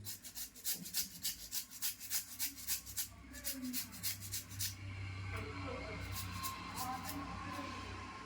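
A raw potato is rubbed finely against a grater in quick rhythmic rasping strokes, close by, over a steady low hum, with a voice speaking faintly in the background.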